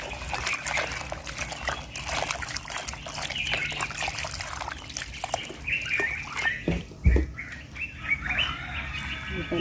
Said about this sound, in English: I'll pour water to remove that skin